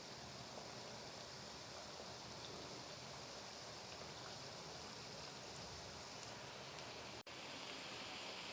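Potato balls deep-frying in hot oil for an iftar snack give off a steady, dense, close sizzle that holds at an even level throughout, broken only by a brief dropout near the end, with no voices.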